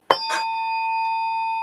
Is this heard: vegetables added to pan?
no